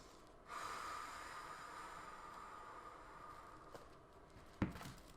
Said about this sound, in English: Couple breaths.